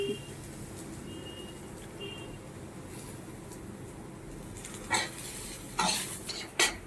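Pieces of papaya and pointed gourd frying in a pan with a little oil: a quiet low sizzle, then a few sharp spatula scrapes and clatters near the end, close by and without talk.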